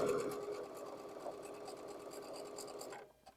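A sewing machine stitches a quilt block seam, fabric pieces placed right sides together, running steadily and fairly close for about three seconds before it stops and only faint room noise remains.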